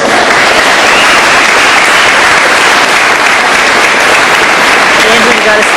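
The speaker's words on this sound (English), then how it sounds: "We can give them a round of applause." A large crowd at a 2005 ESU graduation ceremony gives sustained, loud applause, a steady wash of many hands clapping at once with no break across the whole stretch.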